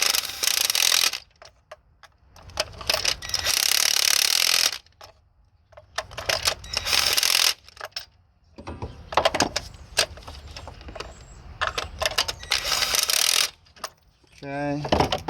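A small, low-powered impact gun tightens lug nuts in repeated short bursts of rattling hammering separated by pauses. Faint metallic clinks and handling noises fill the gaps.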